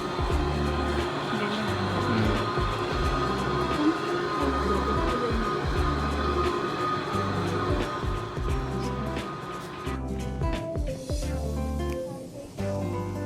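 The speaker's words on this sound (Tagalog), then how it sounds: "Tapos ang tren papuntang Mura." A train in Switzerland rolls along with rhythmic clacking from the wheels over rail joints and a steady rumble, the sound shifting near the end.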